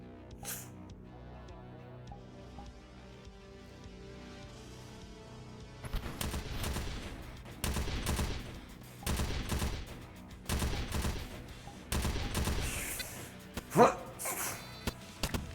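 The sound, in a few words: gunfire at turrets in VRChat game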